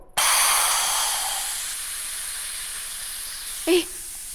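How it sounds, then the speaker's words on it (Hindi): A loud, steady hissing whistle of a pressure cooker venting steam, continuous and close, with a brief faint voice near the end. "कुकर की सीटी बज गई"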